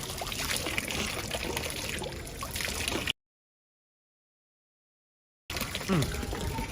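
Drinking water running from a public fountain in Rome, a steady trickle close by that cuts out completely for about two seconds midway and then resumes.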